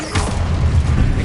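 Expelliarmus disarming spell cast in the Hogwarts Legacy video game, a quick loud whooshing burst with a low booming impact, close and short, no talking.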